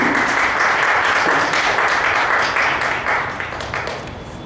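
Steady applause from a crowd welcoming the chief guest, loud and sustained, gradually fading toward the end.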